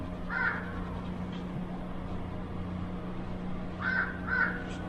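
A crow caws outside, sounding twice in separate bursts: a single call first, then a pair of harsh caws a few seconds later. The calls are moderately distant over a steady background hum, and no one speaks.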